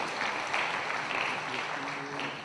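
A crowd applauds at a product unveiling event, with steady, dense clapping that carries on throughout, fairly even in loudness.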